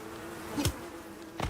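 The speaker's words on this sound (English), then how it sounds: "The bees returned." Bees buzz in the survival video game Icarus, a faint steady drone broken by two brief, sharper passes as insects fly close.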